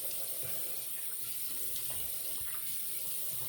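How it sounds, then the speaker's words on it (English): A tap runs steadily, wetting a shaving soap, with an even hiss of flowing water throughout and no pauses. "We're going to add some water to it,"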